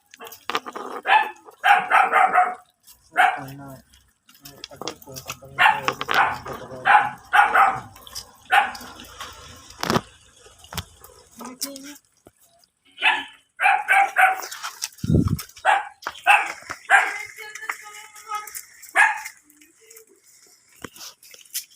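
A dog at a grooming shop in Malasiqui, Pangasinan barks repeatedly in loud, close bursts while it is bathed after grooming, with water running and people talking in the background.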